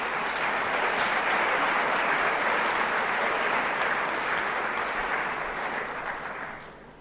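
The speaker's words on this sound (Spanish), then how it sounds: "Vamos a recibir con un fuerte aplauso" Audience at a book presentation applauding to welcome a speaker, a loud sustained roar of many hands clapping that holds steady and then fades toward the end.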